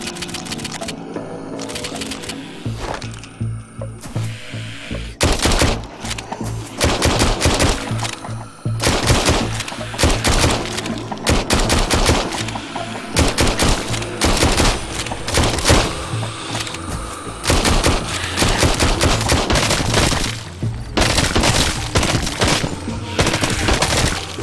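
Rapid pistol gunfire from the VR shooter Arizona Sunshine, a dense stream of sharp, loud shots firing almost continuously over a steady game background, with no talking.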